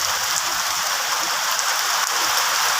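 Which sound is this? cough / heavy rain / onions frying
heavy rain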